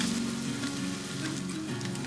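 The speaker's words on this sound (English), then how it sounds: "add the aromatics like garlic, Italian seasoning, and red pepper flakes and sauté for about 1 minute" Garlic, Italian seasoning and red pepper flakes sauté in an Instant Pot for bean soup, making a steady, even sizzle that continues unbroken for the whole short stretch with no voices.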